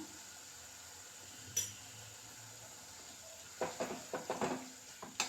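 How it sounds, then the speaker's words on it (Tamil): Tomatoes with turmeric and salt being stirred in a pan, with a soft clink near the start and a quick run of scraping, clinking stirring strokes later over a faint background hiss. "நல்லா வதங்குற வரைக்கும் அப்படியே கிளறி விட்டுட்டே இருக்கணும்."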